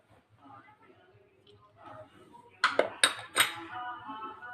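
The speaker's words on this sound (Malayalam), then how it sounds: "ഇത് മിക്സ് ചെയ്ത് വയ്ക്കുക" Ginger-garlic paste and ground pepper marinade being mixed in a bowl for sardine fry, a few sharp clinks and scrapes of a utensil against the bowl after a quiet stretch.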